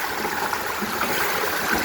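Floodwater running as a river past a monument by an old house, a steady rushing, gurgling flow heard close and fairly loud, unbroken for the whole moment with no voices.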